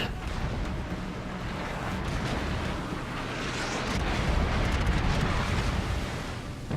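Shells burst around a submarine in a naval video game, heavy rumbling blasts and roaring noise blending into a loud, continuous wash with no talking.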